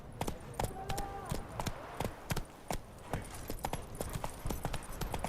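Roach the horse gallops with rapid, evenly spaced hoof clip-clops that stay close and loud throughout, alone without talk.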